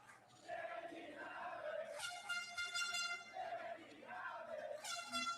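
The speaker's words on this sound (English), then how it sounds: "And there's the air horn." An air horn blares twice over a cheering crowd at a wrestling main event, long bright blasts rising above the steady roar of the audience.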